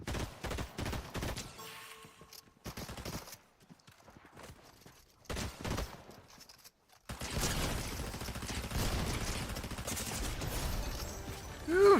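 Gunfire in the Fortnite video game: bursts of rapid clattering shots and scattered single cracks in the first seconds, followed by quieter gaps, then a dense continuous wash of in-game action noise.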